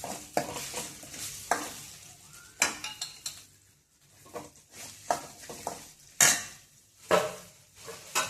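Ginger garlic paste and toor dal sautéing in a pan, with repeated stirring scrapes and clinks of a utensil against the pan over a soft, steady sizzle, close by.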